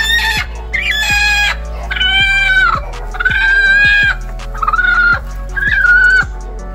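An Aseel hen sitting on eggs gives repeated loud, close, drawn-out protesting calls, about six in a row, each paired with sharp knocks as the eggs are taken out from under her.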